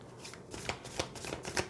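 Tarot cards being shuffled by hand, a soft papery riffling and sliding in several quick bursts, close and fairly quiet with no talk over it.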